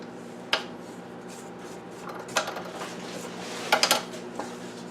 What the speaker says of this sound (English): Scrape the bowl again.